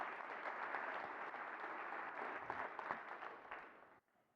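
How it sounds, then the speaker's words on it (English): A developer conference keynote crowd claps for a presenter, a quiet but full round of applause that holds steady and then cuts off abruptly just before the end. "Another round of applause for Stefan."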